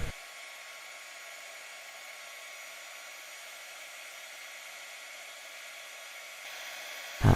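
A heat gun blows steadily while heating rhinestone bracelet settings to flow solder, a constant airy hiss held evenly for several seconds before a brief louder burst at the end.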